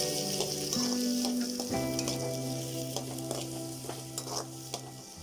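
Three medium-sized onions frying in a pan for a baby potato curry, a steady sizzle with occasional stirring scrapes, close and continuous with no talking.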